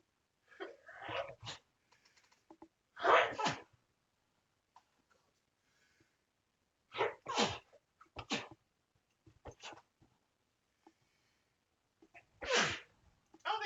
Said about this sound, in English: The sneezes are so aggressive